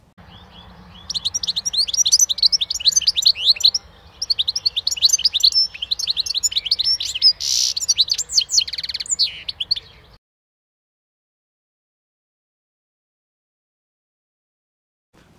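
Caged-bird favourite, the European goldfinch, sings a bright, rapid twittering song of tinkling chirps and trills in two long bursts over about nine seconds, fairly close, before the clip falls silent.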